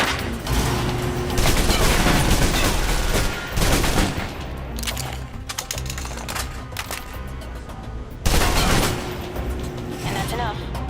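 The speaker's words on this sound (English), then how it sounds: "If you're trapped in close quarters with multiple opponents, the SMGs can help clear the room quickly" Rapid submachine gun bursts fill a close-quarters room fight in Alpha Protocol, loud and dense, several long stretches of chattering fire with brief pauses between, under game effects.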